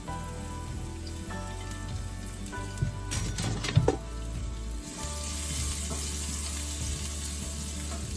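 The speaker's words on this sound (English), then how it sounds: "here goes my 2 chopped garlic. The oil is very well hot." Two portions of chopped garlic sizzle in very hot oil for a mushroom tofu patty, a steady close frying hiss broken midway by a few brief utensil clatters.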